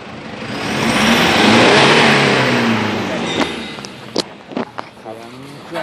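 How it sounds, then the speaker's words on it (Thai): A Toyota Vigo pickup's engine revs up loudly nearby, climbing slowly to about 3,500 rpm and swelling into a broad roar that peaks and then eases off, followed by a few clicks and someone talking. "เครื่องยนต์รอบจะขึ้นช้ามากนะ"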